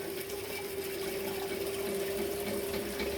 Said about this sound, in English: this is a reservoir here with a motor pumping the water up